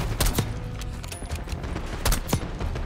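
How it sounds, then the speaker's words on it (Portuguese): Rapid gunfire in the Call of Duty: Black Ops 6 video game, dense overlapping shots with a few louder cracks standing out across the short stretch. "Cara, muito tiro, velho"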